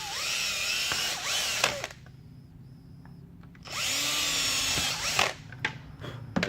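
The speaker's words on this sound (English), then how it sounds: "We're gonna drill some pilot holes." A power drill whirs in two bursts while boring small pilot holes into a back plate during costume armor assembly, with a quiet pause between bursts and a few clicks and taps afterward.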